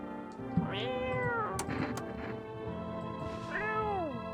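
A cat meows repeatedly in the video game No I Am Not A Human, with several rising and falling mews over game background sounds, fairly close and clear.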